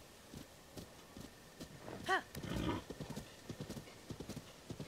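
A horse in the game Zelda: Tears of the Kingdom clip-clops at a steady walking pace, with one clear whinny partway through and the hoofbeats continuing close and even.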